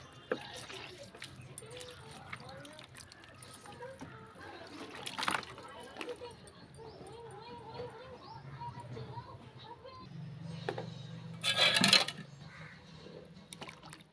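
Starch water is poured little by little over shirts for laundry, making a soft, steady trickle and occasional splashes under a person speaking nearby.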